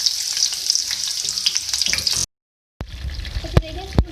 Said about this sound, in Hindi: सबसे पहले मैंने ऑयल लिया है और इसमें हम बैगन्स को ऐड करेंगे